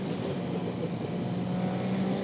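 Caterham sports car engine being driven hard on a wet track, a steady, buzzing drone heard from inside or close by, moderately loud and continuous with no talking.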